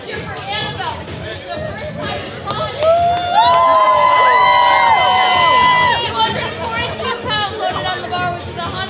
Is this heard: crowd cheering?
yes